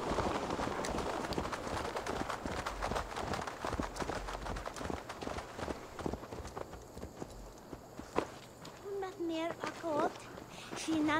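Horse hooves clip-clop in the video game Assassin's Creed Valhalla, a steady run of hoofbeats slowing to a walk, with someone talking over them and a few chirpy game sounds near the end.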